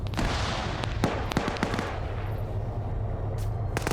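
Grenade launcher explosions in a military shooter game, rendered as a dense, continuous crackle of bursts and sharp reports over steady low rumble, with occasional louder pops standing out.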